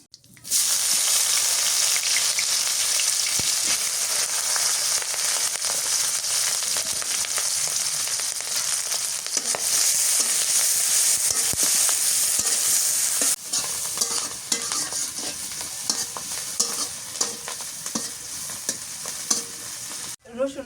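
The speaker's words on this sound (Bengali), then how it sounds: "এখন হচ্ছে মারপা তেলানি করি, সরিষার তেল দিয়ে ওটা কালো জিরে দিয়ে দিই।" Nigella seeds sizzle in hot mustard oil for a rohu fish curry, a loud, steady frying hiss lasting throughout with occasional stirring clinks and a brief dip partway before the sizzle resumes.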